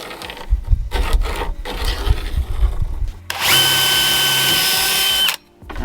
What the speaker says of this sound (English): we're just gonna jigsaw this out